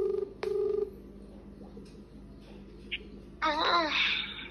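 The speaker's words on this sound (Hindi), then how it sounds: "तो अभी अन्नू को फ़ोन करते हैं" A phone call rings out in short tonal bursts, followed by a brief cheerful, babbling voice answering close by.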